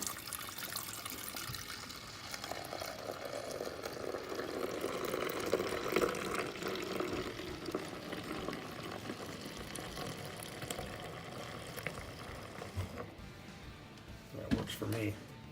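A coffee maker runs cleaning solution into its pot, giving a steady trickling, gurgling flow that carries on throughout, with a person talking over it at times.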